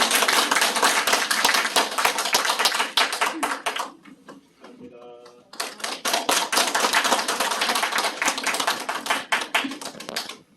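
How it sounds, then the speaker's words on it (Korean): A church congregation at a Sunday service bursts into sustained applause for a graduation certificate presentation, pausing briefly while a voice speaks, then clapping loudly again. "이창선 목사, 예, 박수로 격려해 주시기 바랍니다."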